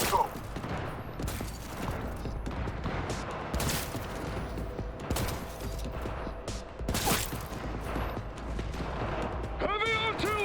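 Gunfight in Cyberpunk 2077 Phantom Liberty on very hard difficulty, with dense bursts of gunfire and heavy blasts running throughout, loud and close, mixed with mechanical clatter and game voices talking over the fighting.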